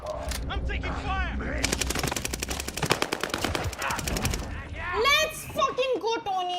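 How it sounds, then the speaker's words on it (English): Rapid automatic gunfire from the video game Warzone Pacific rattles in a dense, loud burst under excited talk from players, with a few scattered shots before and voices continuing after. "I'm taking fire."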